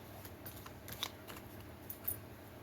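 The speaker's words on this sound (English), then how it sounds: "I feel like I need to shuffle it more" Soft riffling and flicking of a deck of oracle cards being shuffled, with a few sharper snaps, quiet and close with no talking.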